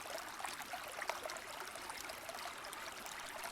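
Steady babbling brook water flows in a continuous, even wash with soft trickling detail throughout, no voices present.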